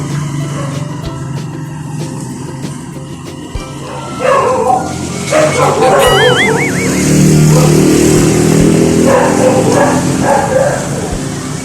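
A dog barks and yips repeatedly nearby amid background noise, with a passing vehicle and some faint talk mixed in.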